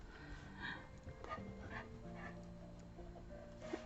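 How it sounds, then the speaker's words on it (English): A house dog whimpers, yips and pants while chasing a fly indoors, its small vocal sounds close and moderately loud, continuing unevenly through the moment with no talk. "I think we might have let a fly in. My dog is chasing it all over the house."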